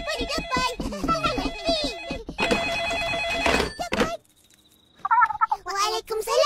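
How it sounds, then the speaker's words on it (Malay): A telephone bell rings in a cartoon family home, its bright trilling tone sounding repeatedly over and between children's and adults' chatter, then stopping before speech resumes. "Telefon."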